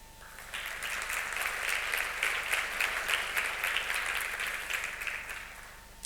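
Steady applause from a conference audience at a research innovations event, a broad even wash of many hands clapping that swells in and tapers off after several seconds.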